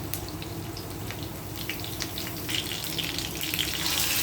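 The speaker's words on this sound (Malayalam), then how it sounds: "വെളിച്ചെണ്ണ ചൂടായി വരുമ്പോഴേക്കും നമുക്കിതിലേക്ക് കുറച്ച് കറിവേപ്പില ചേർത്ത് കൊടുക്കാം." Curry leaves crackle and sizzle in hot coconut oil in a pan, a quiet steady frying hiss with faint pops that grows slightly louder toward the end, with no voices.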